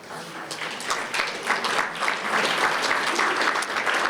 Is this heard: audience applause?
yes